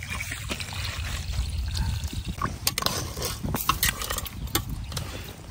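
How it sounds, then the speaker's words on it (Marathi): Water is poured into a spicy, thick curry gravy in an outdoor farm kitchen, giving a continuous splashing trickle with a few sharper splashes. "याच्यामध्ये आता पाणी टाकते मामी."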